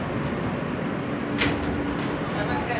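Interior rumble of a New York subway F express train in motion, a steady broadband roar with faint metallic squeal and rattles, heard continuously up close with some background voices.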